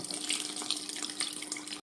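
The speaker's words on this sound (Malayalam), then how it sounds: "നമ്മുടെ ഈ മാവിലേക്ക് ഈ വെള്ളം ഒഴിക്കും" A steady stream of water pours continuously into flour for pakkavada dough for about two seconds, then stops abruptly.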